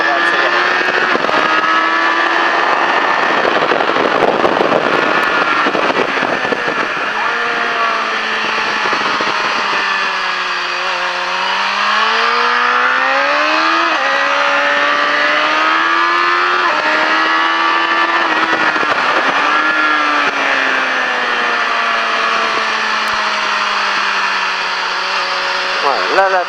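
A racing motorcycle on the La Ferté Gaucher circuit accelerates hard out of a corner, its engine note climbing and dipping through gear changes in a loud, continuous howl, with a voice speaking over it.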